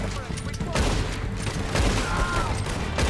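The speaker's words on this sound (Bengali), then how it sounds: "ওরা কারে মারতেছে? আবার গুলি করতেছে" Gunfire rings out in the video game Red Dead Redemption 2, arriving as a dense, continuous volley of shots while a voice talks over it.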